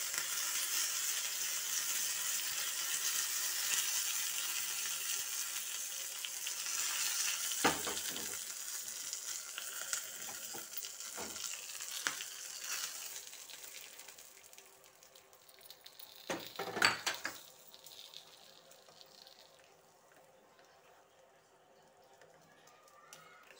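Curry leaves crackle and sizzle steadily in hot oil for a curd-based tempering, a continuous hiss with a few sharp pops and spatters, fading somewhat toward the end.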